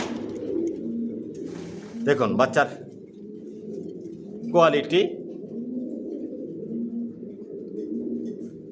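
Large racer pigeon squabs coo and call softly while someone talks over them, with two brief louder bursts of calling standing out.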